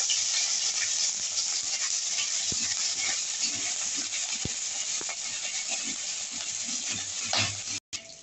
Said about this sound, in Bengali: আমার আদাটা যখন একটু ভাজা ভাজা হয়ে গেছে